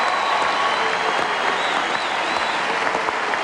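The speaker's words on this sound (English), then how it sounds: "what about a fantastic round of applause for John Farnham?" A studio audience at a televised football grand final show gives a sustained round of applause, dense clapping from a large crowd with faint cheering mixed in.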